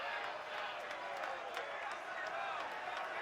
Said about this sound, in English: the crowd is getting on Cervantes for the slow journey back to the plate